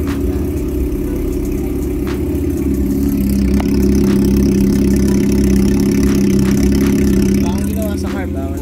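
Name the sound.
Honda CB400 motorcycle engine idling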